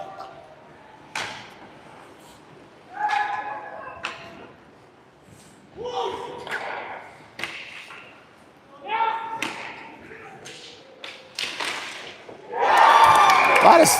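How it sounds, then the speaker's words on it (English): Sticks clacking and pucks thudding during stick checking in an amateur ice hockey game, sharp irregular knocks and taps in a rink, under a commentator's voice, with crowd noise rising at the end. "A lot of stick checking there."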